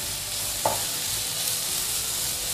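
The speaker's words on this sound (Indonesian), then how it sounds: "Kemudian diaduk rata" A bitter gourd mixture seasoned with sugar and pepper sizzles steadily in a frying pan as it is stirred, with a single clear scrape of the utensil against the pan early on.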